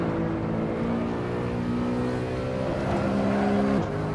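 A BMW E92 M3 in the racing game Assetto Corsa, its engine holding a sustained, close, rising note through a hot lap before a sharp gear change near the end, with no talking.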